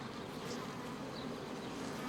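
Bees buzzing as they settle into their hive for the night, a dense, steady, close humming drone with no talking.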